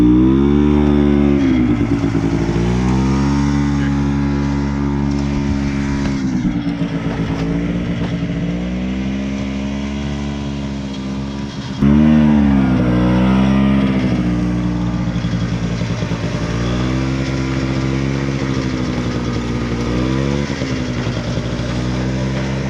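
A 1973 Arctic Cat Lynx snowmobile engine runs on its own with a loud, steady drone that wavers and surges in pitch as the revs rise and fall, with one sharp jump midway.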